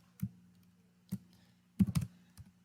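A few sparse keystrokes on a computer keyboard while entering commands at a Windows 10 prompt: isolated clicks, then a quick cluster of taps, close and fairly quiet with no talking.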